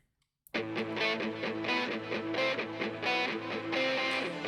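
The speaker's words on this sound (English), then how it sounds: "she's got some heavy metal themes in here with the guitar and everything. Some distortion, some gain in it" A heavily distorted electric guitar plays loud, sustained power chords in a steady heavy metal riff, starting abruptly after a brief silence.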